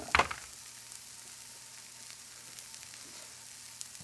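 Lamb slider patties sizzling in a pan, a soft steady frying hiss after a sharp clatter at the start, faint and continuous with no talking.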